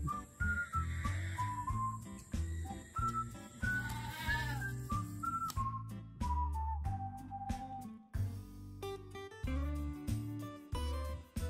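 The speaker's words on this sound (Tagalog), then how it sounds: "Ito na nga kambing mo." Goats on a farm bleat several times in short wavering calls, close and clear, over a steady background with little talk.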